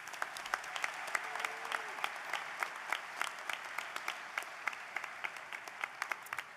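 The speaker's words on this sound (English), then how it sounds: "Now, let's give them all applause." Audience members at a law school convocation applaud faculty and deans, with moderately quiet, evenly spread clapping from a seated crowd that carries on steadily for several seconds.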